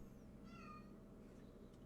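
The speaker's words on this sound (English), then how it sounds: "Why is my cat screaming?" A cat meows faintly during a quiet tabletop game session, with a short rising-and-falling cry over low room hum and no talk.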